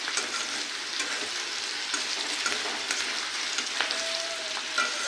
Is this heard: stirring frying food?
yes